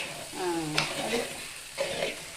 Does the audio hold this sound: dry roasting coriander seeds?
yes